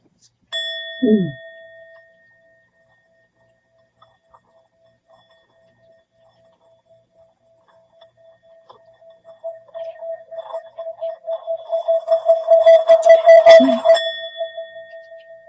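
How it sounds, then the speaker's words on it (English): A struck bell rings with a clear, steady tone that lingers for a long time, while clattering noise swells beneath it near the end. "All struck bells produce two tones."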